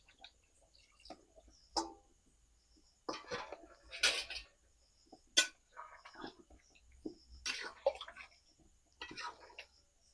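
Marinade liquid for chicken rezala is poured into a cooking pot, with soft splashing and clinks of utensils against cookware in short, scattered bursts, fairly quiet and close.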